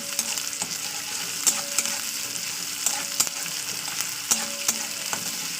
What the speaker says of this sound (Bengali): তো দিয়ে দিলাম আদা রসুন পেস্ট, দিয়ে এটাও কিছুক্ষণ তেলের উপর একটু কষিয়ে নেবো